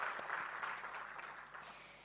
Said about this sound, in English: shall we give him another big round of applause?